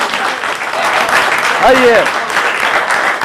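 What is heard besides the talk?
applause at an Urdu mushaira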